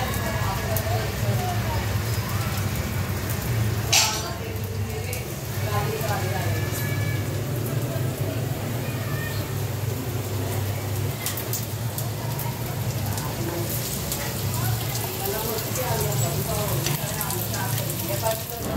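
Matar hara bhara kebabs coated in a little semolina fry in hot oil, giving a continuous soft sizzle and crackle, steady and close throughout.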